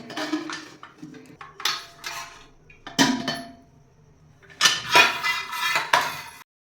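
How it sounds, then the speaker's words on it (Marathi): A metal container of lemon slices is lifted out of a cooled pressure cooker, giving several short, close clanks and scraping clatters of metal on metal with quiet pauses between them and no talking. "आता आपण लिंबाचा डबा बाहेर काढूया"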